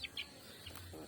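Chickens of a Bangkok and village crossbreed give a couple of short, faint chirping clucks at the start, then a quiet background murmur.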